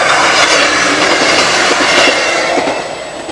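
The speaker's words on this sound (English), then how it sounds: "apart from the train that comes by every, well, probably about 40 minutes" A train rumbles past close by a campsite at Elan in Wales, loud and continuous, with a rushing roar and faint clatter of wheels before it begins to fade.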